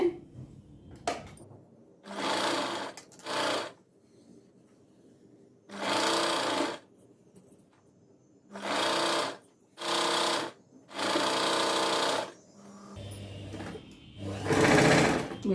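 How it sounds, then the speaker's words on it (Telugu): A sewing machine stitches blouse sleeve and side seams, running in about seven loud, even bursts of one to two seconds each, with short pauses and fabric handling between runs, very close. "ఇక నేను స్టిచ్ చేసేస్తున్నాను"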